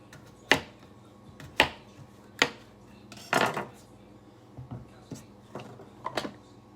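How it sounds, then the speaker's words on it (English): A knife chops the ends off a cucumber on a plastic cutting mat, making several sharp, separate knocks spaced about a second apart with a brief rattle midway, close and clear, with no talking. "I'm just going to cut the ends of my cucumber"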